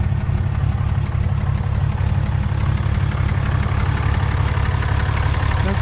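A 2015 Ram 2500 Laramie with a 6.7 liter Cummins turbo diesel idles smoothly and steadily, a close, low rumbling clatter holding an even level throughout with no voices.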